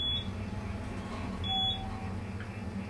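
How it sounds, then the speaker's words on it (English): Two short, high electronic beeps from an Otis traction elevator's floor indicator, the first right at the start and the second about a second and a half later, over a low steady mechanical hum. "I don't like beeps for some floors."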